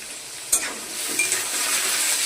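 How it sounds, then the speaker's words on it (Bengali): Potato pieces fry in a pan with a continuous close hiss of sizzling oil, a sharp clink near the start and a few light stirring touches. "আলুটা একটু ভাজা হবে, তারপর পটলগুলো দেবো।"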